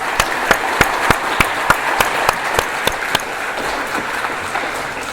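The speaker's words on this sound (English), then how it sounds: "Let's give her a big round of applause" Audience applause for a dancer at an Arangetram, a crowd clapping steadily while one nearby clapper beats out sharp, evenly spaced claps that fade after about three seconds.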